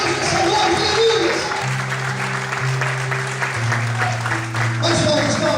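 A congregation claps during a church worship service, dense continuous applause over sustained keyboard or organ tones, with some voices mixed in.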